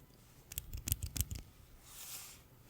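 A technical pencil is clicked to advance its lead, giving a few quick sharp clicks close up in a quiet room, followed by a faint soft rustle.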